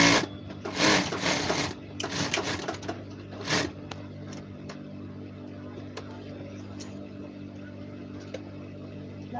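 Sewing machine backstitching a seam on a uniform, rapid loud stitching bursts at the start that give way to a quieter running hum with occasional clicks, close by.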